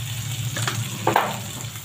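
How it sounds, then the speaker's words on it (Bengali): Chopped onion and green chilli frying with salt in a pan, a soft continuous sizzle with a couple of brief stirring scrapes, heard close and alone. "এটাকে একটু ভাজা ভাজা করবো 5-7 মিনিট করে"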